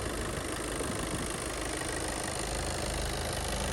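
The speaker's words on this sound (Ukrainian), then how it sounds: "Автомобіль, ви чуєте, працює гарно і рівно." A Skoda Octavia 4x4 car engine idles steadily and evenly, a continuous low rumble with no breaks or revving, close by.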